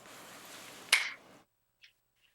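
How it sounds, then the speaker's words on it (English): One sharp, close hand clap rings out in a quiet room and fades into near silence, with a faint small tap shortly after. "When you clap your hands,"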